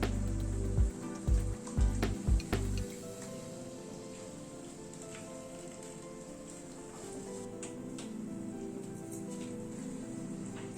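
Spiced chicken sautés in a pan with a steady, rain-like hiss of sizzling. A few low thumps come at the start, then the sizzle runs evenly and moderately loud.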